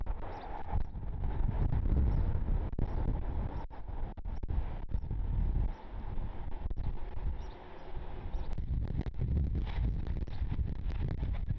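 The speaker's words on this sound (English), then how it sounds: "It's pretty windy, gust up to 22." Strong gusty wind at Cleveland Hopkins airport, gusting to 22, buffets the microphone with loud rumbling bursts that rise and fall, no voices present.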